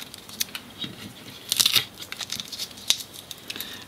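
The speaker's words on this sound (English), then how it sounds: "So I'll just peel that tape off." Tape being peeled off an ECU circuit board during a NIStune Type 1 board installation, heard as a string of short crackling, tearing rips with a louder burst in the middle, close and alone.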